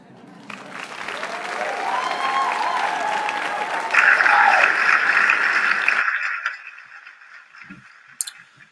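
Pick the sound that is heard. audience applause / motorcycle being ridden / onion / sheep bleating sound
audience applause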